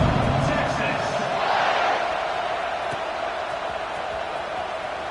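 Football stadium crowd at Michigan versus Florida roaring after a touchdown drive, a broad, steady wall of distant cheering and murmur, loudest at the start and easing slightly, with commentary voices over it.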